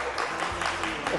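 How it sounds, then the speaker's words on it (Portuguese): Brief burst of audience applause at a Made In Angola television talk show in Angola, a dense wash of clapping heard up close with voices mixed in. "Aplausos!"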